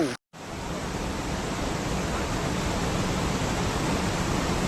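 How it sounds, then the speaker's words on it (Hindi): Floodwater rushes across a mountain trail near Dumak village in a loud, steady roar of churning water, close by and continuous after a brief cut at the start. "काफ़ी सारा पानी आ रहा है यहाँ भी"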